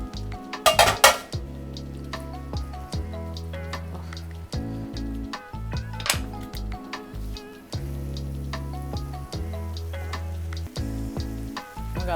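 Pasta is tossed in a large pan with loud clattering of utensils against metal, scraping and light sizzling under a steady background music bed, with a sharp cluster of clanks near the start.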